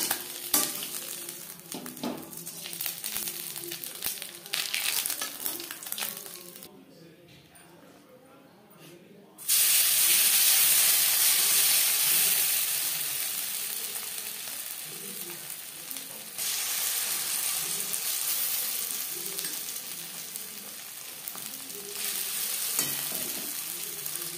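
Small mourola fish fry in hot oil in batches, giving a steady crackling sizzle with a brief quieter gap before the frying noise surges loud again, with faint background talk.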